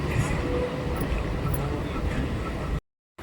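Rumbling interior of a moving train, a steady low clatter and drone with faint higher rattles, continuous until it cuts out briefly at the end.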